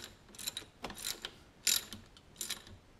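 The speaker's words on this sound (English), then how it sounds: "We just kind of want to get it snug down in there so we can torque it." A ratchet tightens scooter cylinder head bolts in a star pattern, quick clicking bursts of the pawl in several short strokes, close and fairly quiet, with no talking.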